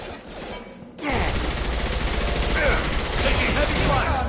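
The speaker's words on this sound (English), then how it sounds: "Taking heavy fire!" Gunfire erupts in the video game Mass Effect 2. After a brief lull, loud and continuous rapid bursts of shots fill the scene and keep going, with voices calling out beneath them.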